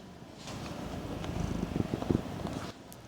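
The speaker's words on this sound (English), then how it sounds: "Did you hear his purring?" A pet cat named Louie purring up close, a soft low rumbling purr that swells and pulses irregularly for a few seconds, with no talking over it.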